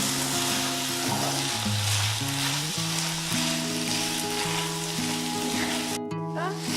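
Banana stem pulao with turmeric sizzles and fries in a pan while being stirred, a steady loud hiss with tonal background music running throughout.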